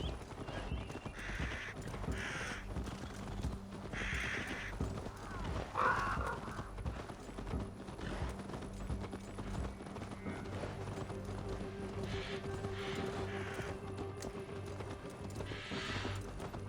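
Horse hooves clip-clop steadily in Assassin's Creed Valhalla, the rhythmic hoofbeats carrying throughout alongside game ambience and a brief whinny, with no speech.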